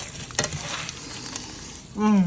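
Cumin and black pepper browning in a hot pan crackle with a steady sizzle, marked by a sharp clack early on, before a voice briefly comes in at the end.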